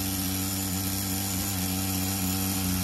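A Tamiya TGS-R nitro RC car engine idles with a steady, even drone and buzzing tone, holding constant without revving throughout.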